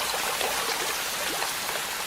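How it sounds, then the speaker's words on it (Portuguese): Continuous dense rush of rain and flowing water in the Amazon rainforest during the wet season, a steady bright hiss with no breaks or voices. "As chuvas transformam a floresta amazônica e muitos de seus rios."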